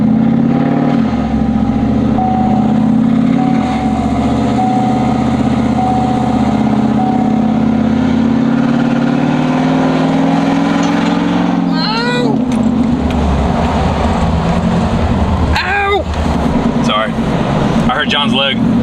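A loud cammed truck engine rumbles and idles with a deep, throaty exhaust, revving briefly near the end, while people talk nearby.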